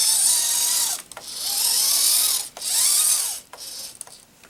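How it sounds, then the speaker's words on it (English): A small model train motor and its gears whir and grind in three surging bursts, with brief pauses between, close up and fairly loud. "you can kind of hear the motor moving"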